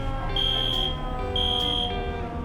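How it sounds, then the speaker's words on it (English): A fire alarm at the Walmart Museum in Bentonville, Arkansas sounds two piercing, evenly spaced electronic beeps over a steady background rumble. "The fire alarms went off, and we were asked to leave the store"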